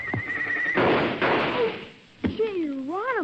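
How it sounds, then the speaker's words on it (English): A horse whinnies loudly right after a slap on its flanks, then a second rising, wavering neigh follows a sharp knock-like thump, close and clear over a rough outdoor background. "Well, you make just one move and Longhorn, slap his horse's flanks."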